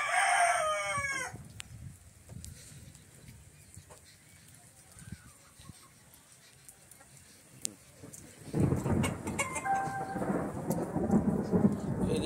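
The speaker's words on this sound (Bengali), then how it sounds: "ওই যে শুনতে পাচ্ছ মেঘ ডাকছে" Thunder from a rainstorm rolls as a deep, swelling rumble in the second half, over steady rain, after a rooster crows at the start.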